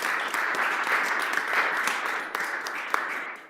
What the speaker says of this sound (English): let's give Miss Frida Malone another well-deserved round of applause